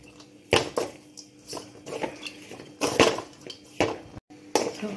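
Food for a vermicelli (semiya) dish with coconut milk being mixed in a pot with a spoon, producing a series of irregular clinks, scrapes and knocks of metal on the pot, close and moderately loud, with no talking.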